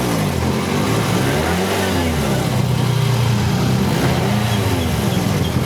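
A Toyota Camry engine revs hard and close, its pitch rising and falling in repeated swells over a constant rough roar with no break.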